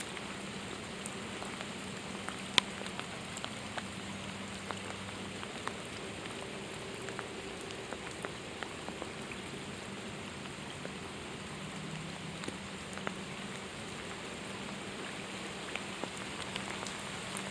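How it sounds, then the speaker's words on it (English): Rain falling steadily during a bass and bluegill fishing trip, a constant fine patter on surfaces with scattered sharper drips and a faint low hum underneath, no voices. "This rain is not letting up."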